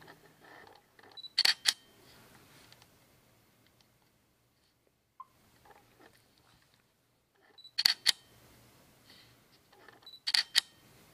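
A Canon EOS 750D DSLR fires its shutter in touch shutter mode: sharp mechanical clicks come in three short bursts, one early and two near the end, separated by quiet stretches with faint handling noise.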